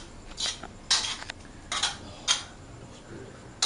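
Fried rice being stirred in a pan after resting off the heat, giving a few sharp scraping and clinking bursts of utensil on metal, spaced irregularly over a quiet background.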